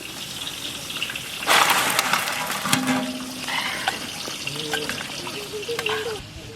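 Katla fish frying in a pan with hot oil, giving a steady crackling sizzle that jumps louder partway through with sharp spattering pops, then settles into a continuous fry.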